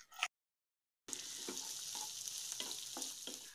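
Finely chopped large onions hit hot oil with golden-fried chickpeas in a pan for potato podimas, sizzling steadily after a brief silent gap, with a few stirring scrapes over the frying.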